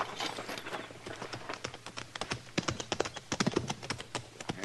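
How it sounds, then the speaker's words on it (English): Horses' hooves clip-clopping in an old Western radio drama, a run of close, sharp clattering hoofbeats that grows denser and louder toward the end, without talk. "Get on off those horses."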